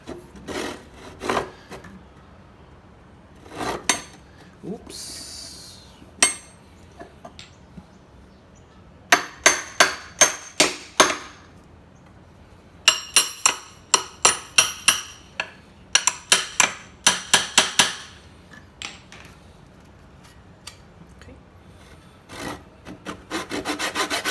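A hand saw cuts a wood joint freehand in rhythmic bursts of rasping strokes, each stroke a sharp scratchy swish, with pauses and a few knocks between runs of sawing.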